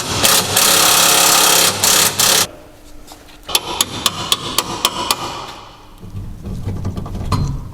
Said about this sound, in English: my dad is going to be just banging out the other end bolt